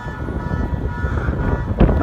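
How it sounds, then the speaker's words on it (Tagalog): Strong wind buffeting the microphone with a dense low roar and gusty rumble throughout, briefly surging louder near the end. "Dahil sa lakas ng hangin, ayan!"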